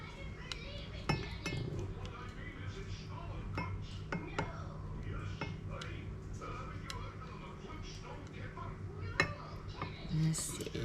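Canned coconut cream stirred with a utensil, producing soft scraping and scattered clinks against the container, fairly faint and close, with a voice murmuring quietly underneath.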